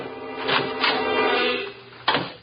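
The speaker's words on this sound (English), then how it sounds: "I knocked once and went in." A door opens in a radio drama, heard as a few soft wooden knocks and creaks followed by a sharper bump near the end. The sounds are close and clear, with no voices.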